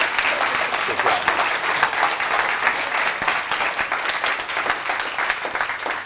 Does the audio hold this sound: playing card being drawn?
no